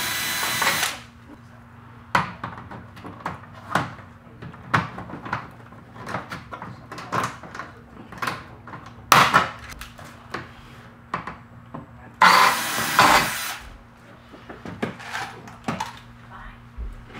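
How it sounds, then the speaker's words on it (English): A power drill drives rivets into the roof of a Club Car golf cart, giving a run of short bursts of a few seconds each and two louder, longer whirs, close by and separated by quiet pauses. "we're going to apply 2 rivets into the roof on the front section in the back"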